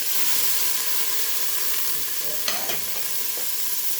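Onion dropped into hot frying oil for ogbono soup, giving a loud, constant close-up sizzle and hiss with a few clinks and stirring scrapes midway.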